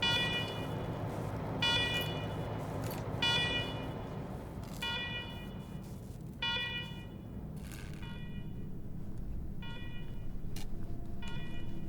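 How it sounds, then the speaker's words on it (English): A security alarm siren blares in a government facility in Wasteland 3, sounding as a repeated electronic wail in steady bursts over a low hum. It is loud and continuous, with no speech. "Alarm, I hate alarm."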